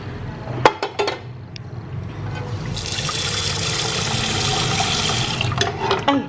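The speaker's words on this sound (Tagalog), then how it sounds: "lagyan lang natin ito ng konting tubig" A little water is poured into a pot, giving a steady splashing trickle that follows a few sharp clinks of metal cookware, close by and without talk.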